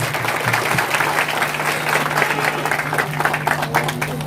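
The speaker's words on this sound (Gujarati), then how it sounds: "જોરદાર તાળીઓ." A gathered crowd breaks into loud, dense applause, with many hands clapping steadily and close for several seconds without a pause.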